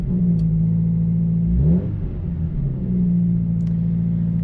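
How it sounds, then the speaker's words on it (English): A cold-started car engine with an aftermarket exhaust, heard from inside the cabin, holds a steady low idle drone, briefly swells around the middle, then settles back into an even rumble. "I figured I'd give it a cold start to where you could hear what it sounds like on the interior of a cold start"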